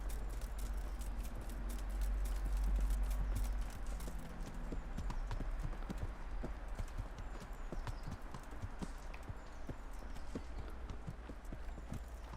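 Horse hooves clip-clop steadily at a trot through the medieval Bohemian world of the Kingdom Come: Deliverance game. The hoofbeats stay close and fairly loud over a low rumbling background, with brief rattles and no speech.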